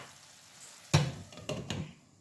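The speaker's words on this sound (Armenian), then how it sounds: "Լա տեսեք ոնց է ճտճտալ են եփվում։" Mushrooms cooking in a pan give off a few short, close sizzling crackles in quick succession over a faint background, with no talk.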